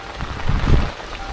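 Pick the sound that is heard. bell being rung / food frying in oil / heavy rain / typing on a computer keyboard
heavy rain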